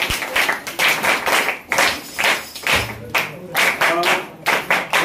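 A school audience at a Constitution Day village gathering breaks into loud, dense clapping in repeated surges, close and sustained throughout with a few thumps mixed in.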